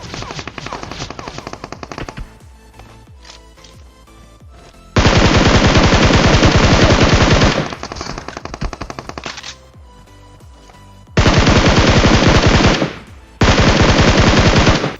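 Loud automatic gunfire from the mobile battle royale game BGMI (PUBG Mobile), coming in long sustained bursts of rapid shots separated by quieter gaps with fainter distant shots.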